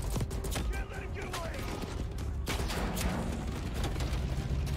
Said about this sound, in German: War aber auch ein ganz schön schlechter Sniper-Schuss.